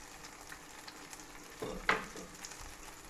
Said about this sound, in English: Fry it so it goes crispy. It's already starting to go crispy there and there.